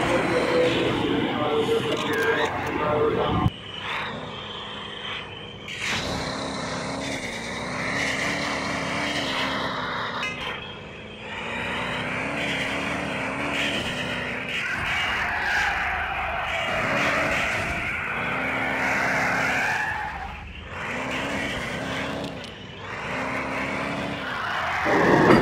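A Ford Mustang drives in the video game Car Simulator 2, its engine a continuous droning roar that rises and falls in pitch through gear changes over about twenty-five seconds.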